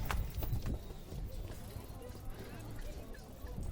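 Horse hooves clop along amid a busy, noisy outdoor scene at a horse-drawn carriage station on Büyükada island, Istanbul, with voices talking throughout.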